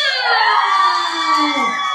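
A crowd at a child's first-birthday party in a McDonald's cheers and shouts loudly and without a break, with many high children's voices mixed in. No distinct handclaps stand out.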